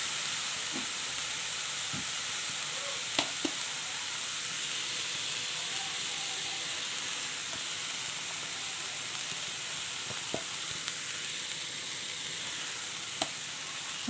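Jackfruit thoran sizzles steadily in a pan after ground masala paste goes in, a close, even frying hiss with occasional faint stirring clicks and no talking.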